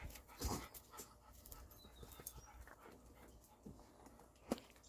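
A female dog pants softly nearby, with quick breathy rhythmic bursts, a few louder snuffles and a brief whimper-like sound, in a quiet indoor room with no talking.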